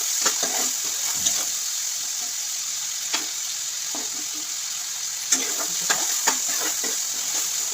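Chopped onions and chilli being stirred and fried in a pan for mushroom curry, a close steady sizzle broken by scattered scraping taps of a spoon against the pan, with no voices.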